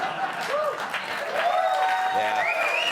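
A television studio audience claps continuously in dense applause while cheers and whoops rise over it and people talk over the clapping.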